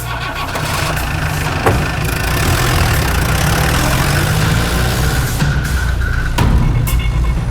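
A scooter engine idles steadily and close by, a continuous low rumble with a brief rev-like bump near the start and another toward the end, running the whole time with no talk over it.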